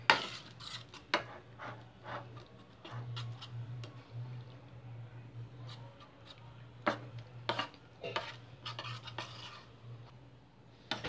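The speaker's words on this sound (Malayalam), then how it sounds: "വിസ്ക് വെച്ച് നല്ല രീതിയിൽ ഇളക്കി കൊടുത്തുകൊണ്ടിരിക്കണം." A whisk stirring milk into white sauce for pasta in a pot, quiet rapid clinking and scraping taps against the metal in an irregular rhythm over a low steady stove hum, close and faint.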